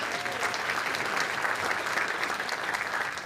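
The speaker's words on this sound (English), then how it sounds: "We can clap for those schools." An audience at a school district's State of Schools event claps steadily and fairly loudly for the recognized schools, a dense, even wash of applause throughout with no pauses.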